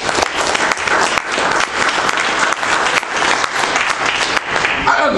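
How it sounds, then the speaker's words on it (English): A crowd at a pastor's talk bursts into loud, sustained applause, a thick wash of many hands clapping close and full for several seconds without letting up. "Can we give ourselves an applause?"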